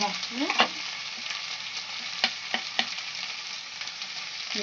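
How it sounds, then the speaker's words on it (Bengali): Mixed spice frying in a pan for a no-onion, no-garlic paneer curry, a steady soft sizzle with a few clinks of a spoon stirring, close and alone without talk. "মশলাটা দিয়ে একটু নাড়িয়ে দিই।"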